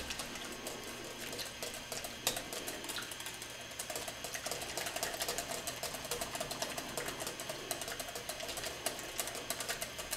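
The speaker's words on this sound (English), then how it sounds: "You keep whisking for a while to get any stray clumps of farina" A whisk scrapes rapidly and continuously through a farina custard mixture for a galaktoboureko filling, a steady, close clatter with fine rhythmic ticking and no voices.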